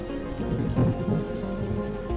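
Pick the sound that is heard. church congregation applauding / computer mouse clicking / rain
rain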